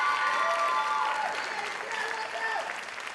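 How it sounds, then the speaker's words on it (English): An audience at a school talent show finals event applauds loudly, a dense sustained wash of clapping that slowly fades, with voices and cheering mixed in. "Give Casey another very big round of applause."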